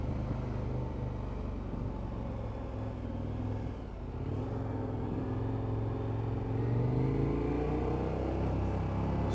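Road traffic running close behind the Millennium Stadium in Cardiff, a continuous rumble of passing cars with a vehicle accelerating near the end, steady and moderately near, no voices.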